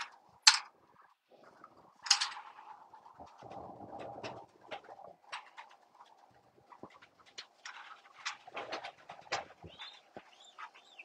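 Racing pigeons coo in a loft, soft throaty calls and wing flutters scattered over several seconds, quiet and close with occasional sharper bird sounds.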